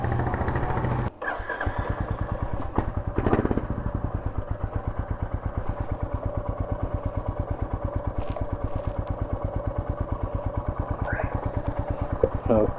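A Royal Enfield Goan 350 Classic single-cylinder motorcycle with a stock silencer, close and loud, settling into a steady thumping idle after a brief catch at the start, with a few sharp pops over the beat.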